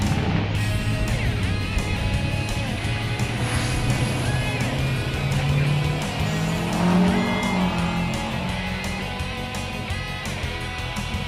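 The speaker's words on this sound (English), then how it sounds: "Not very easy vehicles to learn how to race in the big Supertrucks." Big Supertrucks racing around a track at the 2017 Giti Supertruck Nationals, loud continuous engine roar that rises and falls in pitch as the trucks pass, under commentary.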